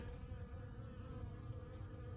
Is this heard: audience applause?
no